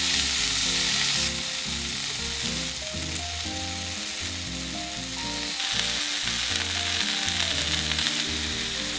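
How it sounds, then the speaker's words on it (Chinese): Sausages frying until golden on an iron griddle at a camp-style Camembert fondue, a steady, close sizzle with crackling spits and soft scraping stirs, with a musical tone droning underneath and no talk. "只是香肠需要煎到金黄色"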